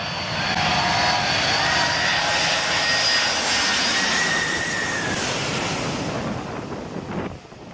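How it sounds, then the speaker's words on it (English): Airplane jet engines roar at full takeoff power beside Maho Beach, a loud, close, continuous blast buffeted by wind noise that holds steady for several seconds before easing slightly at the end. "Everyone was excited to see the plane take off"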